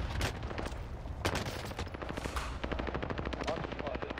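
Rapid automatic gunfire in a first-person shooter game, dense repeated shots forming loud bursts with sharp individual cracks, while a player talks and swears over the shooting.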